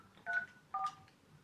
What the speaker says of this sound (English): Now I can dial the conference number of each phone to participate in the conference call.